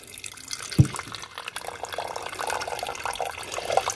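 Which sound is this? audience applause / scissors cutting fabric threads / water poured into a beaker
water poured into a beaker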